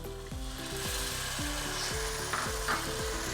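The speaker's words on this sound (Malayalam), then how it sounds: "ഈ സമയം ഞാൻ ഇതിലേക്ക് ഒരു 1/2 കപ്പ് വിനാഗിരി ഒഴിച്ചു കൊടുക്കുന്നുണ്ട്" Vinegar pours into a pan of sizzling fish pickle, raising a loud hiss and bubbling spatter close by. A regular knocking or scraping rhythm runs underneath throughout.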